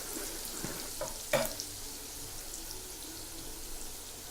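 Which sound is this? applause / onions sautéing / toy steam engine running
onions sautéing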